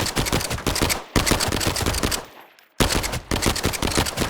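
Rapid pistol shots from a T5 handgun in the game Arena Breakout Infinite, fired in loud, dense bursts with a brief pause near the middle before the shooting resumes.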